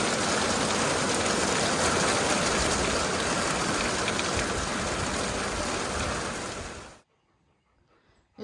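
Rain falls steadily outside as a dense, loud hiss for several seconds, then cuts off abruptly into near silence.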